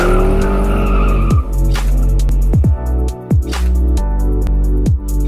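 A BMW M4 Competition Coupé driven hard, its engine revving loudly with repeated sharp tire squeals and skids as gears shift, close and intense throughout.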